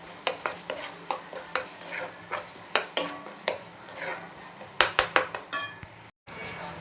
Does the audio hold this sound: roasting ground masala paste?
yes